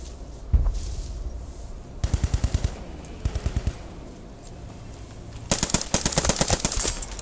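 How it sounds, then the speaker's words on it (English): Gunfire in the Post Scriptum war game: one sharp shot, then several bursts of fast machine-gun fire. Some bursts sound distant, and one dense, loud burst comes at the end. "He's shooting you from underneath."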